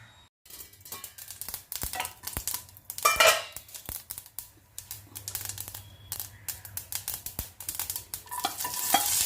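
Garlic, onion and curry leaves being sautéed with capsicum in a pan, with irregular scraping stirs and soft sizzling, close and fairly quiet, with no talking.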